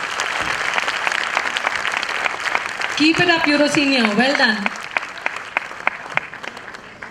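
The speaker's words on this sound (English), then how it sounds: "deserves a huge, huge round of applause" Audience applause at a Euro Kids preschool annual day, a dense, continuous clapping crowd with someone speaking over it partway through and scattered sharper claps standing out.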